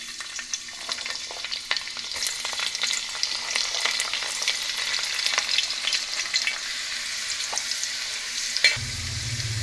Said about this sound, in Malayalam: ഇനി ആ പാത്രത്തിലേക്ക് തന്നെ കുറച്ച് കൂടി ഓയിലൊഴിച്ച് ആദ്യം നമുക്ക് കുറച്ച് വെള്ളുള്ളി വഴറ്റിയെടുക്കാം